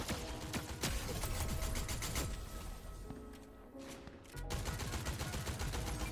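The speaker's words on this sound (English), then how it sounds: "there's some guy shooting me" Rapid gunfire in the Fortnite video game, dense volleys of shots with mechanical clicks and a brief lull before the firing resumes, loud and continuous, with no voices over it.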